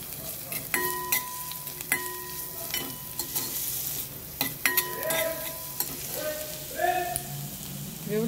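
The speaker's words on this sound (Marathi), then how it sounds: "व्यवस्थित असं भाजू द्यायचं चांगलं तेलात।" Onion, curry leaves and garlic sizzle in a little oil in a kadai while a spoon stirs and scrapes, with steady frying crackle broken by sharp metallic clinks, close and alone.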